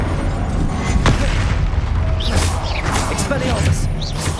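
A Confringo fire spell blasts in Hogwarts Legacy, sounding as loud booming explosions and whooshing magical bursts layered over game music and combat effects, with a voice calling the spell name.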